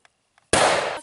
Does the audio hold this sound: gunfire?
yes